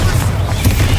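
A Bombarda spell goes off in the Hogwarts Legacy video game as a short, loud, rumbling boom with a crackling burst, dense and close throughout.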